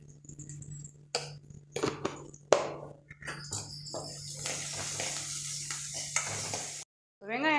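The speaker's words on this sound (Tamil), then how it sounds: "வெங்காயம் வதங்கட்டும்." Onions sautéing and being stirred in a pan for a banana flower kootu, with scraping stir strokes and light sizzle; a voice speaks briefly over the cooking early on.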